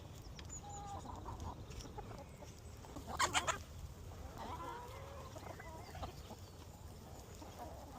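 Backyard hen clucking among other chickens in a farmyard, with a sharper burst of clucks mid-way over steady low outdoor noise and someone talking.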